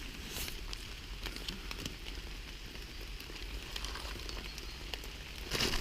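Steady rain falls in a forest, a soft continuous patter of drops on leaves with scattered brief ticks and a slight rise at the end, no speech.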